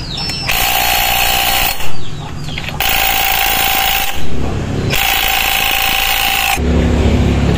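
Impact wrench tightening the 22 mm nut on a Honda PCX CVT fitted with a Euro Griffin 180i set-up, loud close buzzing whirrs in three long bursts, each ending with a short thump and brief gap.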